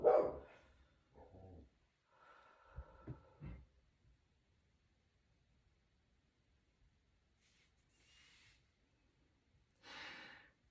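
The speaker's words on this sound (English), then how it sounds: "I apologize for the dog barking." A dog barks a few times in short bursts, fairly close, followed by quiet gaps and some faint breathy snorts.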